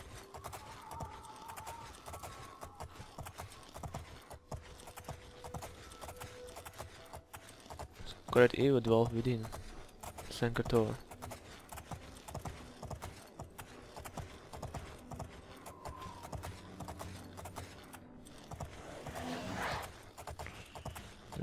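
Galloping horse hooves in The Elder Scrolls IV: Oblivion keep up a soft continuous clip-clop rhythm, while an in-game voice speaks over it partway through and the playing quiets briefly.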